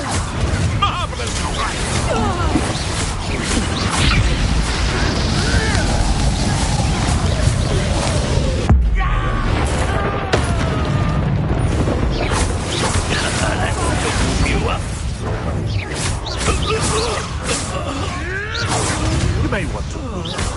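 Confringo and Bombarda spell blasts in the Hogwarts Legacy video game: repeated crashing impacts and whooshes over dense, busy combat noise, with a voice talking throughout.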